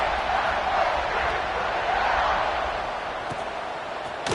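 Large football stadium crowd at an Ohio State versus USC game buzzing after a score, a loud, broad, sustained roar heard from within the stands with no distinct voices.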